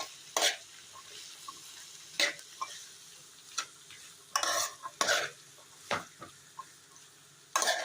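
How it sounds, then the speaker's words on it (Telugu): Bitter gourd (aakakarakaya) pieces stir-fry in a pan, with a spoon scraping and stirring in sharp, separate bursts over a faint, steady sizzle, close and moderately quiet. "కొంచెం వేగగానే మనం ముందుగా కట్ చేసి పక్కన పెట్టుకున్న ఆగాకరకాయ ముక్కలు దీనిలో వేసేద్దాం. వేసి ఒకసారి మొత్తం కలుపుకుందాం."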